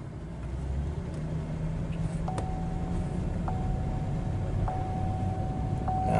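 A GM car with a slipping rebuilt transmission driving and accelerating in drive, a steady broad road and engine rumble heard from inside the cabin, with faint recurring high electronic beeps.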